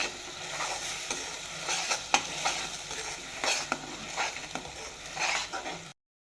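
Mustard seeds and cumin sizzle in hot oil with ground vegetable paste as a spoon stirs, a close, steady frying hiss punctuated by quick scraping strokes and small crackles, with no talk.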